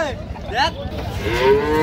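A cow lets out a loud, close moo at a crowded cattle market at Raniganj haat, with a second overlapping low call and background crowd murmur.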